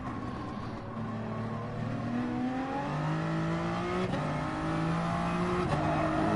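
Gran Turismo Sport race car at Interlagos with a loud, close engine whose pitch climbs steadily through the gears, broken by sharp shift steps, and no voices over it.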